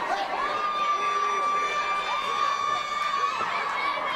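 Steady crowd roar from a professional wrestling event's arena audience fills the whole stretch, with cheering and whoops throughout and no single voice standing out.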